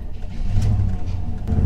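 Truck pulling away from truck stalls at night, a low close engine rumble that grows slightly as it moves off.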